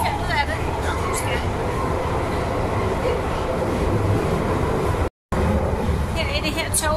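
A London Underground metro train rumbles loudly and steadily with rail clatter and squeals, heard from on board, while people talk over the noise.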